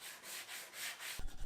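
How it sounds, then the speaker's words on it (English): An orbital sander fitted with a soft pad sands the edges of a walnut cutting board, making a close, steady hiss that swells and fades in repeated passes, with a rougher scuffing at the end. "using a soft pad made for the orbital sander perfect for sanding"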